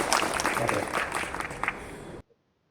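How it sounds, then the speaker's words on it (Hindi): Applause from a church conference audience, a dense, steady wash of clapping for about two seconds that cuts off abruptly into silence. "इसलिए यीशु मसीह की महिमा के लिए एक बार तालियां बजा दीजिए।"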